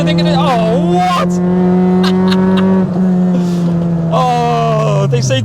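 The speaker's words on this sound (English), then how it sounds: "Oh, I love this response on this engine. And just how rev happy it is absolutely intoxicating." An MK5 Ford Fiesta with a 1.7L Puma engine revs hard and close, its pitch climbing and falling in quick bursts over a steady drone, while someone talks over it.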